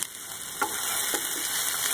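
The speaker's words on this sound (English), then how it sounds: "Now fry it, and then I'm adding the chopped ginger." Chopped ginger frying in a pan makes a dense, bright hiss with two soft clicks of a spoon, steady and close throughout and unaccompanied by speech.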